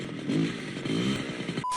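A chainsaw revs in a horror anthology's parody of the MGM roaring-lion logo, a loud, steady buzzing drone with rough mechanical clatter throughout, ending in a brief high tone.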